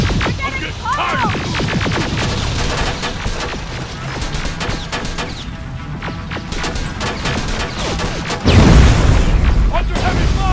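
Heavy gunfire and explosions in the Terminator Resistance video game, a continuous dense barrage of shots with a louder blast near the end.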